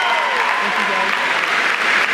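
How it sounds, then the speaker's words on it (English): Dense, steady applause from a large audience at the 2019 Yale graduation ceremony, a continuous wash of clapping throughout with a voice faintly underneath. "let's give these guys a huge round of applause."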